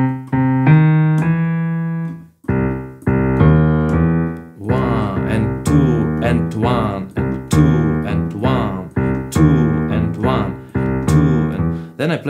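A boogie woogie piano figure is played in a steady, bouncing rhythm, stepping up from the first step to the major third through a passing note, with repeated bright struck notes.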